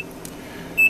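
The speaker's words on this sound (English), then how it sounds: "you can hear the timer start to time" A Zone VI compensating enlarging timer gives a single short, clear electronic beep near the end, with faint hiss and brief clicks before it.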